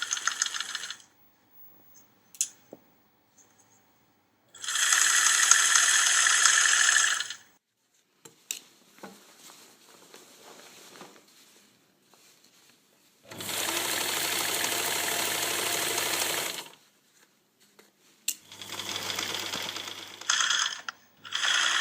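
A sewing machine stitches around a skirt hem in several bursts of whirring, each lasting a couple of seconds, separated by quiet pauses with faint handling clicks.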